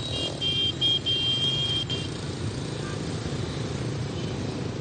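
Dense street traffic in Ho Chi Minh City makes a continuous, steady roar of engines with a thin high whine in the first two seconds and no clear speech.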